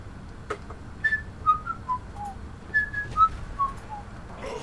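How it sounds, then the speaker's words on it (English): A person whistles a short melodic tune of separate, clear notes, with a few quiet clicks in the background, during Saints Row 4 gameplay. "Why are you whistling that?"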